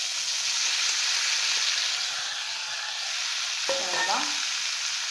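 Boiled chana dal (split Bengal gram) is stirred in a frying pan with oil and curry leaves, giving a steady loud sizzle and hiss with a brief scraping stir near the end.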